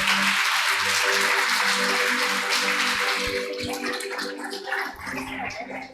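A church congregation at a Sunday service applauds. Dense, loud clapping fills the first half, then thins into scattered claps and murmuring voices as the applause dies down.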